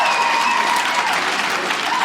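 A stand-up comedy audience bursts into loud, dense applause, a continuous wash of many hands clapping at close range with no voices over it.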